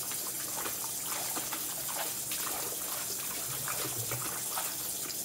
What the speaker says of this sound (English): Got my hands all washed and clean.